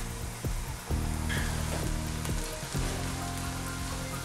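Chopped onion sautés in hot vegetable oil, a steady, dense crackling hiss like light rain that runs throughout, with a faint tonal hum underneath.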